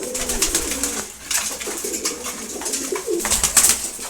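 Close, low cooing from a group of pigeons, among them khaki, racer and chila birds, fills a morning feeding, with gentle rolling calls, a short lull, then fluttering and shuffling noises.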